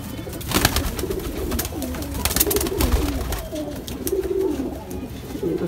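Madrasi pigeons, mostly females, coo softly and repeatedly, close by, with flapping and shuffling among several birds.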